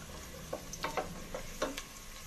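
Onions frying in a pan until brown for a chana daal gosht dish, a faint steady sizzle with several soft scraping stirs of a spoon, quiet and close with no talking.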